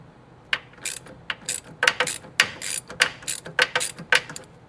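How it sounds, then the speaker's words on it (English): A socket wrench ratchets on a sway bar link nut on a Scion xB, in quick close bursts of sharp clicking separated by short pauses, loud and alone. "let me use a socket there, the wrench on the top"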